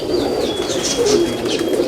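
Cooing from an old pigeon held up to show, a soft continuous murmur with faint higher chirps over it, close and steady, with no one speaking.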